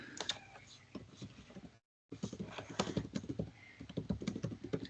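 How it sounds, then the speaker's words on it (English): Rapid clicking of keys on a computer keyboard, close and fairly quiet, with a brief silent gap partway through before the tapping resumes. "Just typing something."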